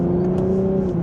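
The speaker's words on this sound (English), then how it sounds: "with a small acceleration, I do have that piped in exhaust note on at the moment" A 2025 Lexus IS350 gives a steady, droning engine tone during a light acceleration from inside the cabin, its exhaust note piped through the speakers, close and unbroken with no talk.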